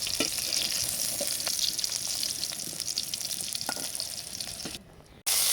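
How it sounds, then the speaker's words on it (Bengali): Onion, garlic and green chillies fry in hot oil, a bright continuous sizzle with occasional stirring clicks that cuts out briefly near the end. "এখন একদম লাল করে ভেজে নেব এবং রসুনগুলো যেন সিদ্ধ হয়ে যায় এমনভাবে আমি ভেজে নেব"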